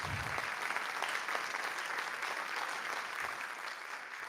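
Steady applause from a sizable crowd at a senior awards night, dense and even throughout, with no voices standing out.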